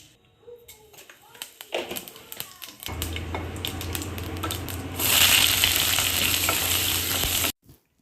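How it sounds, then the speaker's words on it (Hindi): Cauliflower and peas drop into a hot cumin and bay leaf tempering and sizzle loudly and steadily, after a few seconds of utensil clatter and stirring nearby. A voice talks faintly at the start. "तो मैंने सिर्फ जीरा और तेज पत्ते का तड़का लगाया था और ऊपर से डाल दी है इसमें गोभी और मटर"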